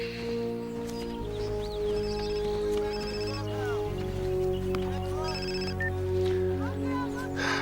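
A telephone rings in bursts of bright electronic trills, repeating at intervals beneath a steady musical score and low background sound.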